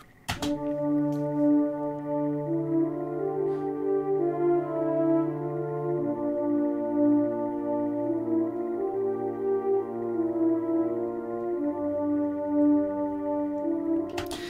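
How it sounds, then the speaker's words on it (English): French horns play a simple melodic motif in orchestral video game music, sustained notes stepping between pitches over a steady layered backing, alone without talk. "I added in a third French horn part on the repeat, but this one introduced a new motif"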